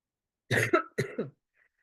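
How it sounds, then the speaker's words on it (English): Two quick coughs, each with a double burst, sound close and fairly loud against silence. "Well, I cough."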